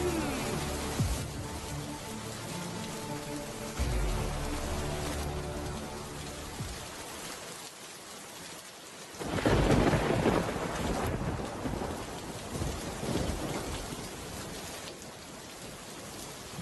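A cartoon thunderstorm plays out, with steady heavy rain hissing throughout and a deep rumbling thunder roll, then a loud crack of thunder and a gust of wind near the middle.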